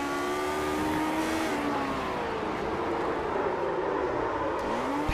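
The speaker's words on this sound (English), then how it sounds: "Let's ride on board and listen in with the Nizumi Graphics LC car" Onboard engine of the Nizumi Graphics LC race car at Fuji in a retro racing series, a steady loud drone with rising and falling pitch through gear changes, heard alone without voices.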